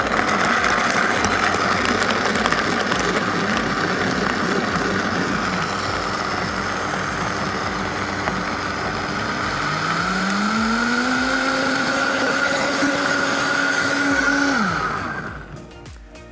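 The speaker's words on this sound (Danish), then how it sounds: "Bruger tamperen lige til at hjælpe blenderen i gang, hvis det bliver nødvendigt" Blender running a smoothie program on a green smoothie, a steady loud whir that ramps up in pitch near the end before stopping abruptly, with no talk.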